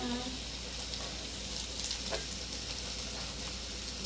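Cabbage and sliced kielbasa fry in a hot pan, producing a loud, continuous close sizzle with brief stirring scrapes as the food is flipped over.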